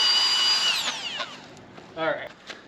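A cordless power drill in a Makita, Milwaukee and DeWalt endurance test whines at high speed, then winds down and stops, followed by a brief rattling burst of the motor spinning again.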